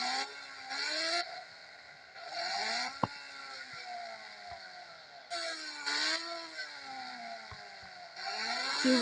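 Motorcycle engine in the mobile game Indian Bike 3D, with synthetic revs rising and falling in repeated surges and a few clicks, close and fairly quiet.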